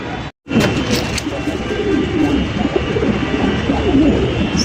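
Blue Bar Sirazi pigeons coo close by in a steady, layered murmur of soft throaty calls, continuous after a brief cut near the start, loud and alone.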